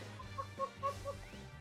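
A chicken clucks in the video game SpeedRunners, a short run of four or five quick, faint clucks over a low background hum, with no voices.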